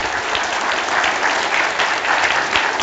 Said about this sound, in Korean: 다 같이 다시 한번 하나님께 영광의 박수 올리겠습니다.